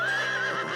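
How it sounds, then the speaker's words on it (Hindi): Cartoon horse gives one close, loud, high-pitched neigh that wavers briefly and cuts off quickly, with no talking over it. "ये किसका घोड़ा था?"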